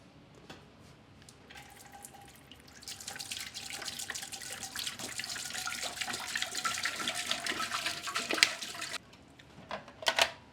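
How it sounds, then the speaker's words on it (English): A gallon of distilled water poured into an All American 50X electric sterilizer, a steady splashing, gurgling stream that builds for several seconds, then stops, followed by a few faint knocks. "there we have a gallon of distilled water in there"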